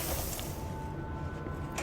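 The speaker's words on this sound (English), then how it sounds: "The fridge is doing something!" A fridge in the video game Control gives off steady mechanical ratcheting and gear-like grinding, close and continuous with a faint tonal whine and no voices.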